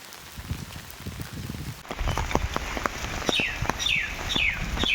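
Steady rain patters down in a Punjabi village, a dense even hiss that grows fuller partway through, while birds chirp in quick repeated calls over it.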